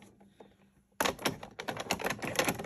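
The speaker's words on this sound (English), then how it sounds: "So, you can hear it take up the tape." A 1980 Sony Betamax SL-5800 VCR takes up a stuck test tape, starting after a quiet hum with a burst of rapid mechanical clicking and rattling that runs steadily, close and fairly loud.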